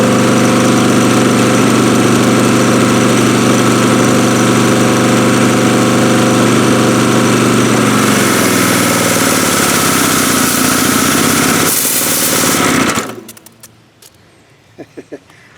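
A Husqvarna pressure washer's small engine runs steadily and loudly for about thirteen seconds with a constant droning hum, then cuts off, leaving near silence with a few faint clicks.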